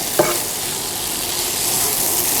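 Nasi goreng with Arab rice and Bumbu Mawar Merah seasoning, plus beef, stirred and fried in a pan: a steady, close sizzle with a brief clatter of the utensil near the start.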